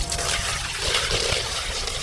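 Fresh water is poured into a pan of turkey fry cooking village-style, a continuous splashing, gurgling pour heard close and fairly loud with no talk over it.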